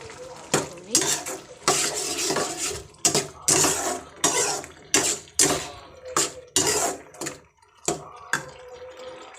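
A vegetable curry cooking in a pan, with repeated scraping and clattering strokes of a spoon against the pan, close and fairly loud, in an irregular rhythm with short pauses between stirs.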